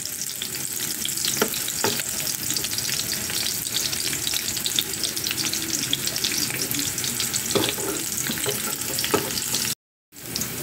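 Purple onion frying in a pan, cooked for bitter gourd with sotanghon, sizzles loudly and continuously with stirring scrapes, with a brief dropout near the end.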